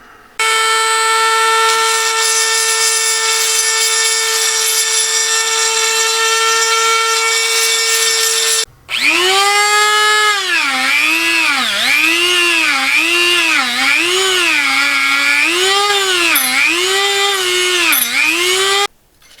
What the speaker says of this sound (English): Now we'll take the Dremel and like a wire brush and manually just try to get as much of that rust out of the inside of there